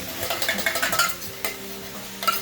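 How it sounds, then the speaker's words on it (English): Meat for chili sizzles in a hot pan with a steady crackle, broken by a few sharp clinks and scrapes of a utensil stirring nearby. "I hear the meat sizzling in the background"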